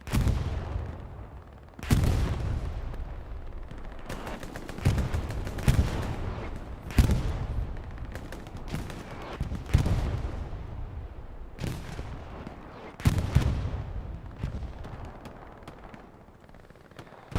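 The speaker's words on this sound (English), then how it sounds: "I will say the artillery play has been exceptional this game." Artillery in Hell Let Loose booms repeatedly, roughly every two seconds, as heavy explosive blasts with rumbling decays, some closer and louder, others more distant, with no talk.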